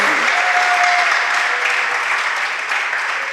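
Sustained audience applause at a Jain religious discourse on the Swayambhu Stotra, a dense, steady clatter of many hands clapping at an even level throughout, with no talk over it.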